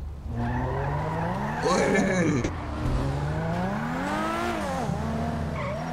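A car in a video game roleplay driving fast, tyres squealing and skidding in long wavering screeches over a steady engine drone, with people talking alongside.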